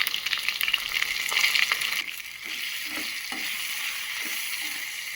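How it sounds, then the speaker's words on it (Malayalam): Diced yam, onion, curry leaves and a green chilli sauté in hot oil for a Kerala mezhukkupuratti, giving a loud, steady close-up sizzle with crackles that eases slightly partway through. No one speaks. "നന്നായിട്ടൊന്ന് വഴറ്റി കൊടുക്കണം."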